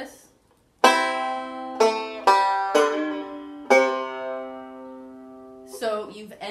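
A short banjo phrase: a handful of bright plucked notes and chords spaced unevenly, each ringing out and decaying, played close up before a brief closing flurry.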